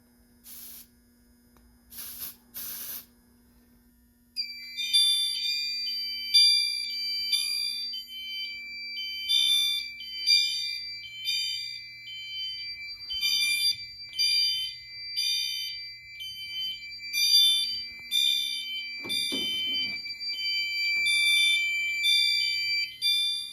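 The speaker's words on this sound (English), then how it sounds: "So now let's sound the system in general alarm." A Notifier NFW2-100 fire alarm system sounds general alarm: after a few short chirps, loud, high, repeating electronic tones pulse in a steady rhythmic pattern for about twenty seconds, with a faint mains hum and brief handling noise.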